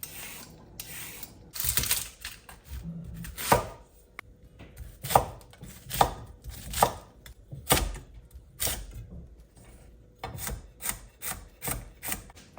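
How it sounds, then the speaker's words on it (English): A knife chops carrot and celery sticks into small pieces on a board, giving sharp close knocks in uneven bursts with pauses between runs. "I'm just going to chop them up like, in small pieces."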